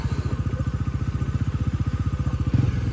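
A Bajaj Pulsar NS400Z motorcycle engine runs close by, a fast, even chug of firing pulses with a brief rise in loudness near the end, and no voices over it.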